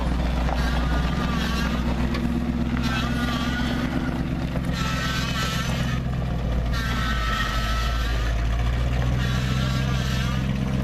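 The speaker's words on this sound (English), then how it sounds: "You hear that hydraulic pump making noise?" A hydraulic pump on the Brutus Bumpside truck whines at a steady pitch over the low rumble of the idling engine, close by, while someone talks over it.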